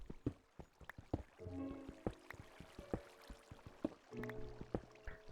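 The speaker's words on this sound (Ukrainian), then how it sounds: "звук води підсилюється, але нічого взагалі немає" Water sounds in a dark cave in the Minecraft video game, scattered drips and gurgling splashes with small watery bursts, faint and irregular with no talking.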